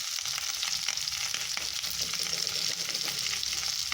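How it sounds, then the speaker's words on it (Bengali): Turmeric and salt are stirred through a pan for a Bengali fish curry, producing a steady, close hiss of frying with soft scraping strokes running continuously, with no talking. "দিয়ে ভালো করে নেড়ে দিচ্ছি।"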